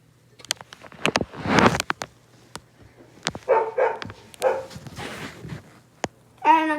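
A dog barks repeatedly nearby while birch bird feeders are filled outdoors, with sharp irregular barks, some yips and whimpers, and faint handling noises between them.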